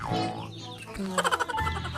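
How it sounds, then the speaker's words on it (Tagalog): Native backyard chickens cluck in a short burst of quick clucks midway, over a steady background of outdoor noise. "Kamong mga manok."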